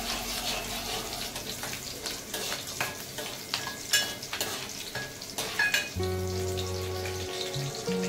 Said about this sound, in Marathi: आता मिरच्या घेते फिरून. लागले मिरच्या व्हायला.